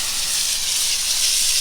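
Steady, close hiss of a water spray washing insects and eggs off a hibiscus plant, a continuous bright rush with no breaks and no talk over it.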